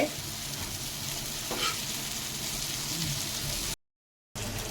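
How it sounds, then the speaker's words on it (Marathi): Prawns sizzle and crackle steadily on a hot griddle, a continuous frying hiss that cuts out briefly near the end. "तुम्ही इकडे बघू शकता कोळंबी तवा फ्राय छान होते"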